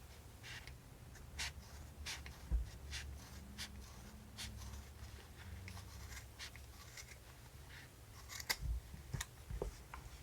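Scissors snip through yarn while a crochet pom-pom is trimmed, giving a run of crisp, close cuts spaced unevenly across a quiet room, with a few louder snips near the end.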